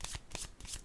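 A tarot deck is handled as a card is drawn, giving soft, quick riffling and sliding card sounds in three short bursts, faint and close.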